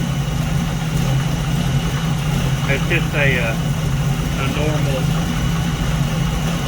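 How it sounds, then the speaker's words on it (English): A car with a stock 350 engine idles with a steady, even low rumble that runs throughout, while someone talks over it. "stock 350 engine in this car"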